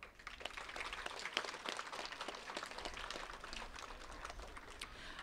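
Faint, dense applause fills a school-year opening ceremony, a continuous even patter of many hands heard from a distance with no break over several seconds.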